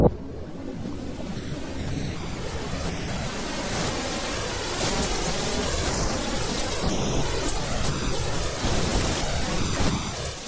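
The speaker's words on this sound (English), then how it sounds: "Cyclone Ida has dumped 16 inches of rain across far north Queensland." Heavy cyclone rain pours steadily across far north Queensland while thunder rumbles through it, a dense, loud roar of downpour with rolling low crashes and no voices.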